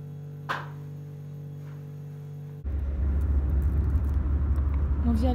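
Car interior during a taxi ride, with steady engine and road rumble rising abruptly after a quieter humming start, a continuous close drone with faint background movement.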